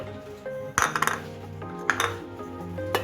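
Grapes tumbling into a steel mixer grinder jar for fruit juice, giving a few close, bright clinks and knocks against the metal over low kitchen hum, with no talking.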